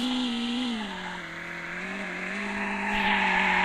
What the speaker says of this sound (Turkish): Arabayı sürüyoruz.